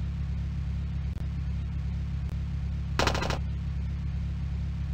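Gunfire from a company of soldiers in the World War II strategy game Across the Rhine: a sharp, dense burst of rapid shots lasting about half a second, standing out over a steady low engine rumble, with two faint clicks earlier.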